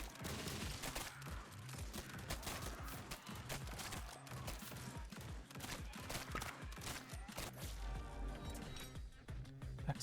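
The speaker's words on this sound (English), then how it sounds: "The exploding bullets do seem to have a pretty short range" Exploding bullets fire in the Grind Survivors video game as a dense, nonstop fusillade of rapid bangs and crackling impacts over a low rumble, with no letup throughout.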